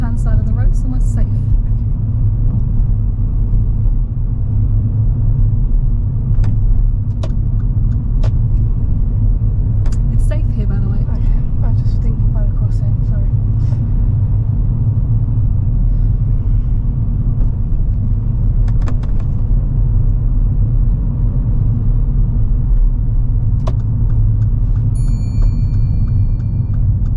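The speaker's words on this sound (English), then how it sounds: "pull over and park on the left-hand side of the road, somewhere safe" A car on a driving test pulls over to park on the left-hand side of the road. A steady, loud engine and road rumble from inside the cabin runs throughout, with a few light clicks.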